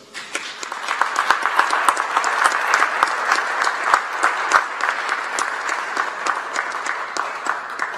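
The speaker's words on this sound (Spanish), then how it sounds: "Despidamos a nuestras autoridades con un fuerte aplauso" Audience applause closes a press conference, a steady, dense clapping that holds at full strength for the whole stretch, with scattered sharper individual claps standing out.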